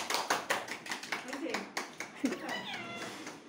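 A group claps hands at an anniversary cake cutting, a run of sharp irregular claps close by, mixed with a meowing cat and voices talking.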